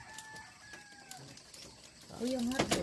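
A rooster crows loudly and close at the end, after faint distant bird calls and soft rustling.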